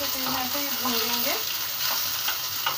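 Chicken pieces sautéed lightly in a pan for a white gravy, a steady close sizzle with brisk stirring and scraping throughout, a faint tonal hum briefly at the start and no clear talking.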